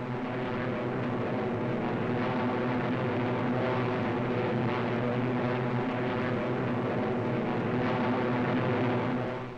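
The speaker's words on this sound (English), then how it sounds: "The Thunderbolts climb steadily over the channel into hostile skies." Piston engines of P-47 Thunderbolt fighter planes drone steadily as the planes climb over the English Channel in wartime, a dense continuous roar that holds loud and even, with no voices.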